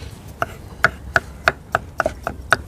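Cucumbers chopped on a board by two people working together: a quick series of about nine sharp knife strikes in an uneven rhythm, close and clear, with no talking.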